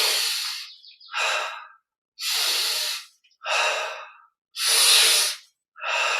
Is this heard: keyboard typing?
no